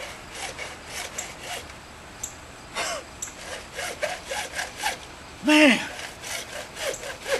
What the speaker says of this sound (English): you grab a hacksaw or whatever you want to use to cut this off with, and you start cutting right there on your marks